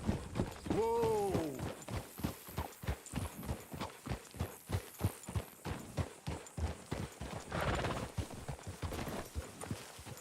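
Horse hooves clip-clopping at a steady trotting rhythm in Red Dead Redemption 2, close and clear, with a short whinny near the start before the hoofbeats continue and slow.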